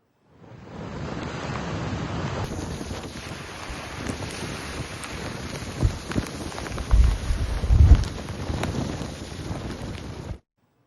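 Heavy floodwater surging at the Yellampalli project, a steady broad roar of rushing water buffeted by wind on the microphone, with louder low thumping gusts near the end before it cuts off.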